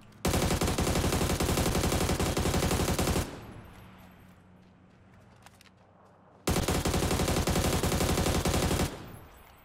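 Video game gunfire rattles in two long, loud bursts of rapid automatic shots, split by a few seconds of quieter ambient game sound with no speech.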